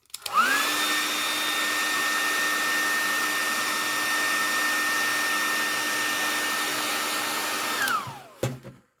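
A hair dryer blows steadily on a used Christmas gift bag, a loud continuous whirring hum that runs for about seven seconds before switching off and winding down.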